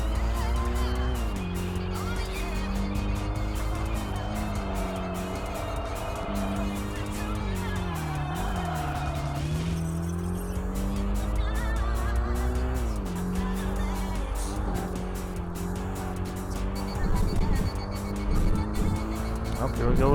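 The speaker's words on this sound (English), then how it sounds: "Just abusing that handbrake there." Racing car in the video game Tokyo Xtreme Racer Drift 2 sliding through switchbacks under hard handbrake use, engine droning and wavering as tires squeal intermittently through the long drift sequence, steady and fairly loud.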